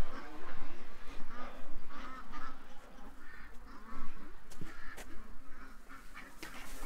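Ducks kept in a hospital pen honk and quack in repeated bursts. The calls are close and overlap across the whole stretch, with no clear talk.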